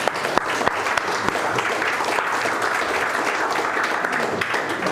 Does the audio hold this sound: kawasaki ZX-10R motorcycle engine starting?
no